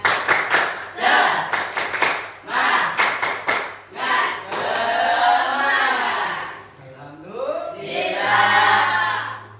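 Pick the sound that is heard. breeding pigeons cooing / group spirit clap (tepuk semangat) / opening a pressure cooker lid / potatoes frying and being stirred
group spirit clap (tepuk semangat)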